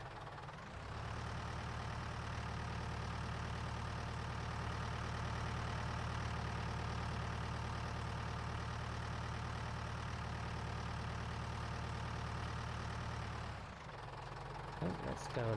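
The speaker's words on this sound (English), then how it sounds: "Just straighten the tractor out." A tractor engine in Farming Simulator 19 idles at a steady low rumble for about thirteen seconds, then cuts off abruptly near the end.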